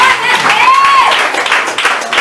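A church congregation claps together for a woman invited to the front, a brief burst of hand claps while voices sing or speak over it.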